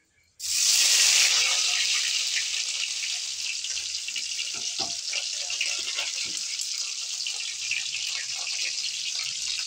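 Chopped onion hits hot mustard oil with cumin seeds and bursts into a loud sizzle, then settles into a steady, dense frying hiss that lasts to the end.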